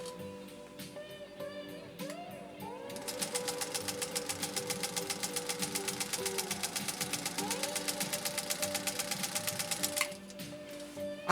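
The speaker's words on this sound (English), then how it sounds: "a single layer of protected full grain leather. This is going to be a fairly long sew off" A restored 1948 Singer 201-2 sewing machine with a roller foot stitches through a single layer of full grain leather, a fast, even, mechanical clatter running close and steady for about seven seconds before stopping.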